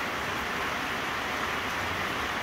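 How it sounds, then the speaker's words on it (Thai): Rain pours at a roadside market, a steady dense hiss with no breaks and no voices. "เพราะว่าฝนตกนะฮะ"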